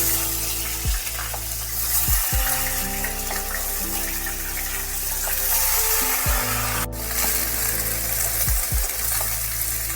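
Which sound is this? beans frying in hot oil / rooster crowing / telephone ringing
beans frying in hot oil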